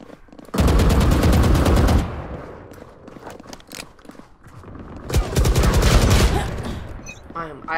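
Rapid automatic gunfire in the Valorant video game, two loud sustained bursts separated by scattered single shots, close and dominant.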